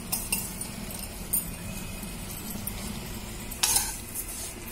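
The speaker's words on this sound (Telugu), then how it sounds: "సేమియా ఇట్లా వేయించుకోవాలండి" Vermicelli (semiya) roasting in a pan makes a low dry rustle, with a few scattered spatula clicks and one brief louder scrape near the end, quiet and close, no speech.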